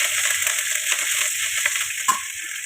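Curry leaves dropped into hot oil for dahi vada tempering, giving a steady bright sizzle and crackle with a sharper pop near the end, close and continuous with no talking.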